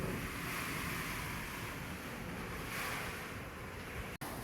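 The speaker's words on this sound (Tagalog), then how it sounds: "Malakas pa rin ang hangin." Strong typhoon wind roaring steadily with a surf-like wash, loud and continuous with a brief dropout near the end, no talk.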